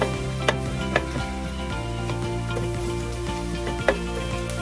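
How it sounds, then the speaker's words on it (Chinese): Broccoli and other vegetables stir-fried in a little oil in a pan, a steady close sizzle with a few sharp clacks of the utensil against the pan. "再放入少许油，加入蔬菜翻炒"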